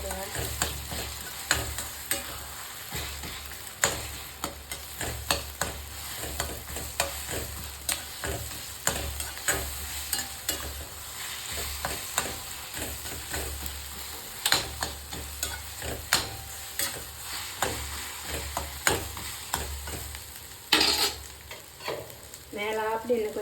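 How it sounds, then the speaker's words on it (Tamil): Beaten egg mixture with chili powder sautéed in oil for an egg Maggi dish, a steady crackling fry close by, punctuated by frequent sharp spatula strikes and scrapes against the pan, with no speech. "எல்லாம் ஒன்றா போட்டு ஆயில் அப்படியே நல்லா வதக்கிடுங்க."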